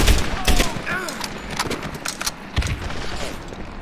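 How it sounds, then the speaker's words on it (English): Gunfire in Medal of Honor: Airborne, a World War II shooter, rings out as several sharp rifle and machine-gun shots in irregular bursts, some close and loud, others more distant. "Somebody's shooting from somewhere."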